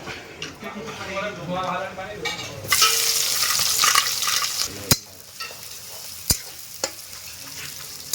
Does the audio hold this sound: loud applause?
no